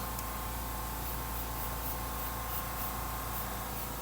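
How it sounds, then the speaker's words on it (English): Wheel cleaner sprayed onto a car rim, a continuous broad hiss running steadily throughout, fairly loud and close with no talking. "So let's go ahead and spray this."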